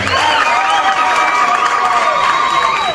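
A crowd at a political gathering in a Kenyan church cheers and claps to welcome a speaker: steady, loud, dense noise from many people with raised voices ringing through it, unbroken for the whole stretch.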